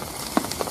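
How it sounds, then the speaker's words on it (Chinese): Rain falls outdoors at a riverside fishing spot, heard as a few scattered drops tapping sharply on a nearby surface over a soft steady background. "又下雨了，收东西都走不了，又要淋雨回去啊，好烦这雨。"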